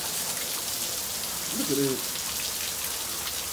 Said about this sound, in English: But y'all, look, it's raining.